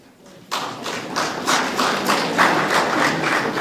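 A hall audience at a regional state address breaks into hand clapping, starting abruptly and carrying on as a steady, dense patter of many hands at moderate distance with uneven swells.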